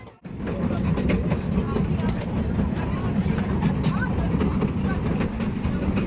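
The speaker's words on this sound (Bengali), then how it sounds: "আবার ট্রেনে চলছি" A moving passenger train gives a continuous heavy rumble with faint rhythmic clatter, heard from inside a carriage while people talk nearby.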